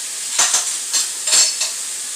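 Sausage sizzles in a pan while cooking jambalaya, a steady close hiss with a few sharper bursts of crackle and spatter rising over it, no voices.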